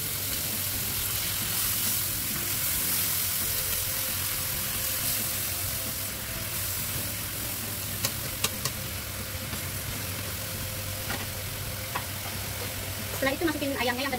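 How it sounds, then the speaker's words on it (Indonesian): Grated tomato hits a hot pan for Spanish chicken paella and sizzles steadily while being stirred, a constant frying hiss with occasional utensil clinks. "Masukin tomat parutnya ya teman-teman"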